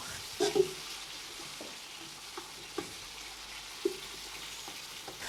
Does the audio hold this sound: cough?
no